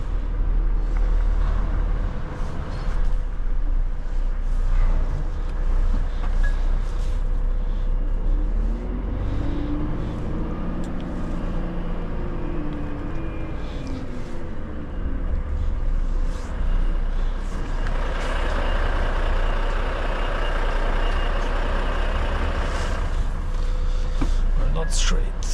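A hook lift truck hitches up a trailer: a loud, steady diesel engine rumble with hydraulic whine and a few clanks and hisses. People talk over it throughout.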